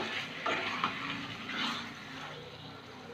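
Chicken sautéing in a pan for chicken dopiaza, giving a broad, steady hiss with light stirring scrapes, close by and continuous.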